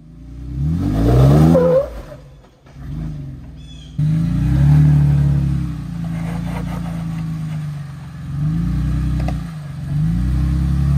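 A Jeep engine revs on an off-road trail in Red River Gorge, Kentucky, rising and falling through several throttle surges with a brief drop in between, loud and close with no talk.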